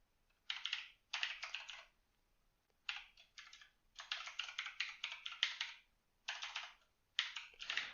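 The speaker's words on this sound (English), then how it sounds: "despite my horrible typing ability" Someone types on a computer keyboard up close, in quick bursts of crisp key clicks separated by short pauses, with no speech.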